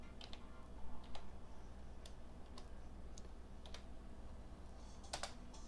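Computer keyboard typing a bookmark name in GIS software, a run of soft, close, irregular key clicks spaced over several seconds in a quiet room.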